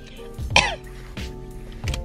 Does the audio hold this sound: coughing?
yes